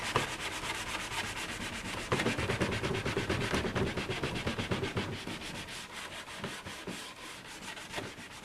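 A scouring pad scrubs the grooves of wooden furniture being stripped with oven cleaner, giving a close, continuous abrasive rubbing with quick back-and-forth strokes for several seconds, with no speech.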